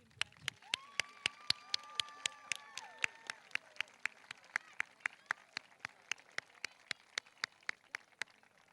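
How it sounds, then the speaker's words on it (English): A graduation audience at a middle school 8th grade ceremony claps in a steady rhythmic pattern of sharp, evenly spaced claps, moderately distant, while a reverberant voice calls out at the start. "And we can clap on that one"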